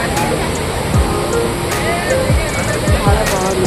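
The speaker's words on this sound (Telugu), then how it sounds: "ఆ నీటి సౌండ్ కూడా వినొచ్చు మనము" Water roaring at Bogatha waterfall in Telangana, a steady broadband rush heard throughout, with voices talking over it nearby.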